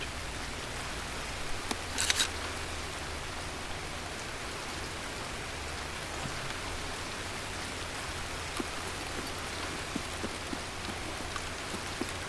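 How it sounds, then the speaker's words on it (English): Steady rain falling in the game Escape from Tarkov, a dense even patter of raindrops on surfaces with no voices and a brief sharp noise near the start. "Oh wow, we have a rain now."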